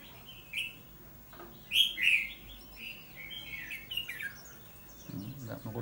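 Untrained red-whiskered bulbul, caged for about twenty days, gives short bright chirps and warbled phrases in bursts, fairly close, over a low background rumble.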